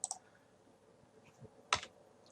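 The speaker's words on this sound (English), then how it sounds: "I just pressed F8 on my keyboard." A computer keyboard key is pressed, giving a couple of sharp, close, isolated clicks separated by a quiet pause in an otherwise still room.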